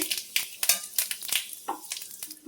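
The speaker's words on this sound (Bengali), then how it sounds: "তেল গরম হয়ে গেছে, শুকনো লঙ্কা দিয়ে দিচ্ছি আর হচ্ছে 5 ফোড়ন দিচ্ছি" Dried red chillies and five-spice seeds sizzle and crackle in hot oil in a pan, with a rapid series of sharp pops and spits over a steady frying hiss, close and fairly quiet.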